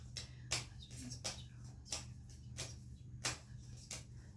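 A timer ticks in a steady, evenly spaced rhythm of sharp clicks, about one every three-quarters of a second, fairly close over a low constant hum, with no talking.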